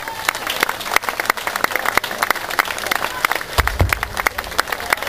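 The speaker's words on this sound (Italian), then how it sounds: "L'applauso in Camaiore per Simone Stortoni." A roadside crowd in Camaiore applauds cyclist Simone Stortoni during a road race, sharp scattered claps rising and falling throughout, with a heavy low thump near the end.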